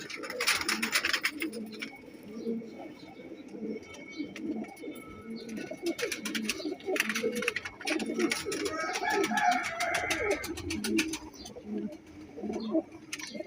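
A golden male pigeon coos in repeated low, throaty phrases, close and steady, with chirps from other birds scattered through and a voice speaking faintly at times.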